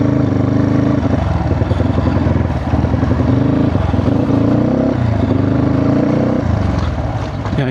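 A motorbike engine drones loudly and continuously at close range on a road trip toward the China border, with a steady throbbing rumble throughout.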